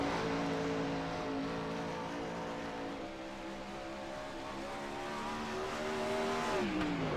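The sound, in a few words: 410 winged sprint car on qualifying lap at Knoxville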